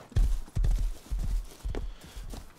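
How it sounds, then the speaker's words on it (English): A horse in a multiplayer video game walks with uneven, hollow clip-clop hoofbeats in several short bursts, close and fairly loud, with no talk over them. "I'll try and send this horse back a little bit."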